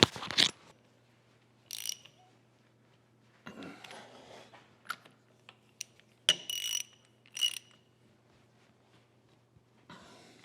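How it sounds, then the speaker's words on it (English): Wrenches and clamping bolts being tightened on a horizontal milling machine setup for a cast iron straight edge: scattered metallic clicks, ratcheting bursts and clanks at close range, with pauses between each group and no talking. "Tighten down all these bolts."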